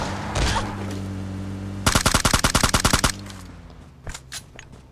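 Rapid burst of automatic gunfire in PUBG Mobile Lite, about a dozen sharp evenly spaced shots loud and close, preceded by a single shot and followed by a couple of scattered distant reports over a low game hum.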